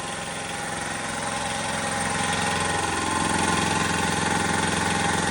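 A McGraw 29-gallon 165 PSI oil-lube belt-drive shop air compressor runs steadily in a garage, a continuous droning mechanical hum with a fast pulsing chug that grows slightly louder partway through.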